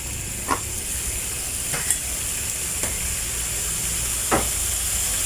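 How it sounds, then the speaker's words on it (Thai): Steady sizzling and frying hiss from a hot pan as chicken giblets stir-fry with garlic, with a few sharp scrapes of a utensil stirring the food at irregular intervals. "ถาจะผัด เครื่องในไก่กับกระเทียมก่อนนะคะ"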